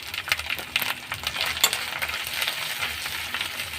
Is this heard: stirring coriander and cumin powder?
yes